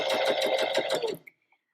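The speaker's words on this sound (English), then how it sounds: "using your scrap piece of fabric, just continue making several rows of your straight stitch" A sewing machine running a straight stitch through scrap fabric, a fast steady chatter of needle strokes for about a second before stopping, followed by a faint click.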